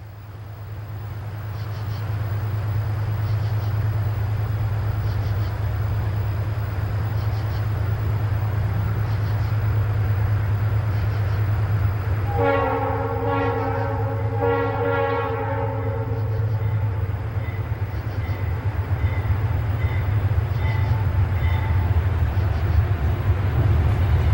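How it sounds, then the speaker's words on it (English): An eastbound Conrail-era freight train on the Pittsburgh Line, trailed by former Santa Fe C30-7 locomotive CSL 526, approaches with a steady heavy rumble that builds as two long horn blasts sound in the middle. "The familiar sound of an approaching train directs our attention to an eastbound approaching on the Pittsburgh line."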